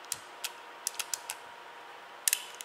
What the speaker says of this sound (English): then you just rotate the cylinder around to an empty chamber